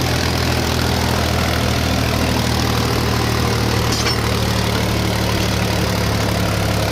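Tractor engine straining uphill at about 1500 rpm under heavy load, a steady loud low drone with constant harmonic hum and no pauses.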